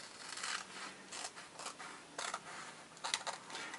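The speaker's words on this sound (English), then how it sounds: "Now I'm going to cut out his little jacket." Scissors snipping through paper to cut out a small jacket for a craft gnome, a few quiet, separate bursts of cutting with short pauses between them.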